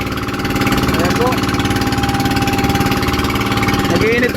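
A fishing boat's engine idles near and loud in a steady, rapid throbbing rhythm after being cooled with water, while a voice talks over it.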